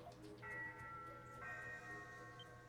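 A ship's bell rings faintly in the Ys 8 video game, two soft tonal strikes with lingering ringing tones about a second apart, low in level.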